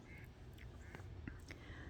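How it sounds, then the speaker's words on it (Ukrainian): Ducks quack in a few short, scattered calls outdoors on an autumn dawn. The calls sound faint and distant over a steady background hiss. "Качечки там уже так гучно, гучно себе ведуть."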